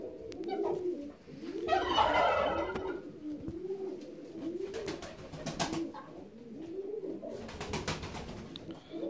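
Fancy ornamental pigeons, young birds from 2018 with good foot feathering, coo in a loft with a steady rhythmic series of low throaty calls, close and moderately loud, with occasional rustling and wing sounds.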